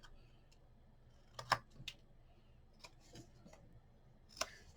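Scissors trim a scored cardstock pocket for a hard-cover folio, a few quiet, crisp snips spaced irregularly in an otherwise hushed room.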